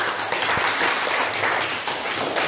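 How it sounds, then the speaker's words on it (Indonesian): A classroom group gives lively applause, with steady, dense clapping from many hands throughout the short stretch and no voices over it. "Beri tepuk tangan yang meriah."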